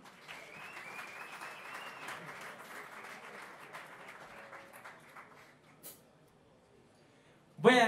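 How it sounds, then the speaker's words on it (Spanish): Audience applause at a guitar contest in a Pamplona hall, a fairly faint, distant crowd clapping for several seconds with some voices and whistles mixed in, tapering to near quiet before a sudden louder burst at the end. "Un aplauso para ellos, por favor."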